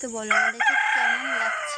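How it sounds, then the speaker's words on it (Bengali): A rooster crows loudly and close, its long drawn-out call overlapping with someone speaking. "মোরগটা এত ডাকা ডাকছে"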